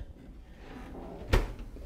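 A hotel room drawer is pulled open with one brief, sharp wooden knock and slide, heard close and alone after a few seconds of quiet room tone.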